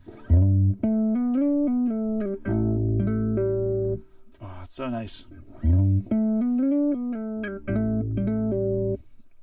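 A bass guitar plays a sustained, singing melodic phrase, with clear held notes and grace-note slides in a steady flow, briefly broken by a short spoken remark midway.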